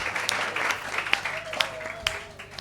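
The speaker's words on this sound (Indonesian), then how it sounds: "Tepuk tangan untuk regu A." Applause from an audience at an Islamic school quiz competition as a team finishes its round, a steady wash of clapping with a few sharper claps standing out.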